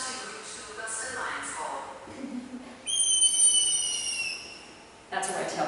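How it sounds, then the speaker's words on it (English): A trained falconry bird gives a high, drawn-out red-tailed hawk cry, sounding as a strong, clear scream for about two seconds, then repeated briefly at the end, with outdoor ambience under it. "That's a red tail cry."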